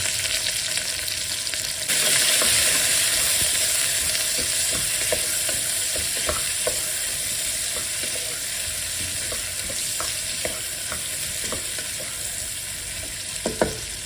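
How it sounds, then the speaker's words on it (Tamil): Chopped onion sautés in hot oil with green chillies, a continuous loud sizzle punctuated by frequent spoon scrapes and taps against the pan. "ஒரு 1 நிமிஷம் வதங்கின அப்புறம் கட் பண்ணி வச்சுருந்த வெங்காயத்தை போட்டு நல்லா வதக்குங்க."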